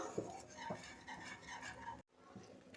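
Corn flour halva being stirred in a pan: faint, soft scraping strokes of a spoon repeating slowly against the metal, close and quiet.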